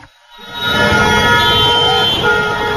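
Vehicle horns blare in congested city traffic in the capital, overlapping sustained honks that hold loud and steady for several seconds.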